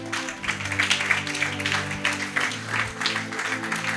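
A church congregation applauds steadily at a worship service, a dense wash of many hands clapping at close range with a low musical drone beneath it and no clear talk.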